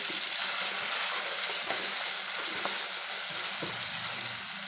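Mutton masala curry sizzles in hot oil in a pan over a high flame, a steady bright frying hiss with soft scraping stirs, close and alone.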